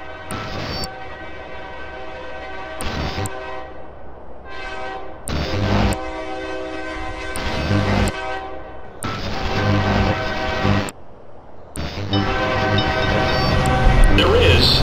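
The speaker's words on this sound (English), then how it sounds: "train to Vermont will arrive in 3 minutes" A train pulling into a station in the video game GTA San Andreas, with repeated loud horn blasts and rumbling rail noise building over a steady backdrop, under faint talk.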